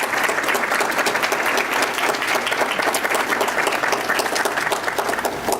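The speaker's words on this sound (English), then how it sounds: "would you please stand briefly for applause?" A roomful of meeting attendees applauds standing steering committee members with continuous, dense clapping at an even, fairly loud level from start to finish.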